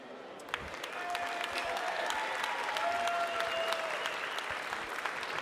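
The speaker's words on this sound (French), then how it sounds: "vous pouvez les applaudir très fort" Applause from the public at a Salers cattle competition, a steady even wash of many hands clapping, moderately distant and soft, sustained for about five seconds.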